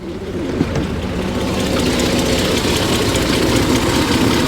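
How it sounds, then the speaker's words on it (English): An inline six-cylinder car engine idles steadily, heard up close and loud with the bonnet open. The rumble is even and unbroken throughout, with no talking over it. "So a nice inline 6-cylinder, running sweetly."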